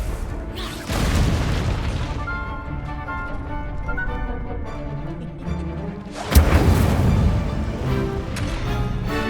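A Confringo explosion spell in the video game Hogwarts Legacy bursts with a loud, deep boom and a rumbling tail, followed by a second heavy blast and crackling debris.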